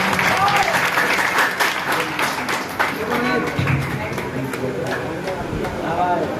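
Applause from the congregation at a Bhagavad Gita gathering in the Durga Mata temple at Talwandi Sabo, loud continuous clapping from many people with voices mixed in and over it.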